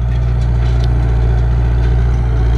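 A Ursus C360 Turbo tractor engine, smoking under load after a fuel dose increase, runs steadily up close with a deep, constant low rumble and no break through the whole stretch, with no voices.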